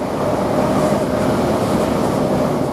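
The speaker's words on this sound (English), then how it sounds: "And we get more of this train when this train departs." An LNER train pulling out of Grantham railway station, a steady low rumble and rolling of wheels heard close and continuous, with no voices over it.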